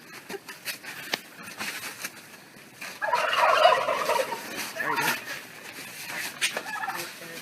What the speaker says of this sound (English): you maybe heard the turkeys